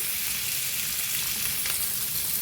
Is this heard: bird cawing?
no